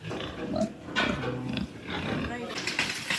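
A farm pig grunts while drinking water in a pen, low rough grunts and snorts repeating throughout, with people talking over them nearby.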